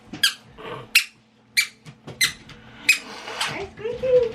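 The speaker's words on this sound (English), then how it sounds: "squeaky toy" A squeaky toy squeaks repeatedly in short, sharp bursts spaced irregularly, close and fairly loud, with a softer vocal sound near the end.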